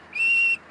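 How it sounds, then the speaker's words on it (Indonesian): A single short, steady whistle from a person, clear and fairly close, lasting under half a second before another begins. "jangan bersiul kayak gitu"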